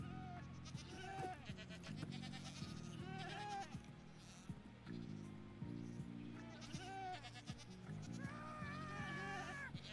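A screaming goat in the Minecraft Caves and Cliffs update gives several loud, wavering bleating screams in bursts over a steady game background hum, with no speech.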